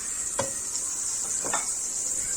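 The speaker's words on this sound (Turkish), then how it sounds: "İyice kokusu çıkana kadar kavuruyoruz" Butter sautéing in a pan for rice pilaf, a steady soft sizzle with a couple of brief stirring scrapes, close and alone.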